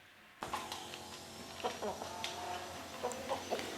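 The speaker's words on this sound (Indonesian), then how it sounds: "Ini ada jantan muda besar tapi belum berkokok ini." Chickens cluck close by in short, scattered bursts, with a large young rooster among them that has not yet begun to crow; no other sounds intrude.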